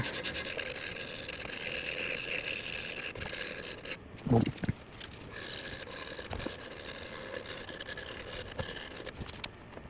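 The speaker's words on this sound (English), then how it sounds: "maybe putting a pound or so of pressure on there as I'm filing." A file or polishing stone rasps steadily against the metal receiver of a Savage 93R17 rifle, a continuous close scraping with a brief louder knock partway through.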